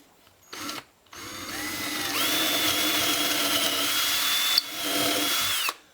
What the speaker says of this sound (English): I'm going to drill the holes first before I cut these out